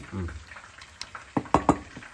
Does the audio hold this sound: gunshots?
no